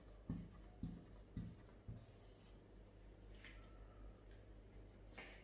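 Pen strokes scratching out numbers on paper for rough working, four short firm scribbles near the start and then lighter scratching over a low steady hum, with no talking.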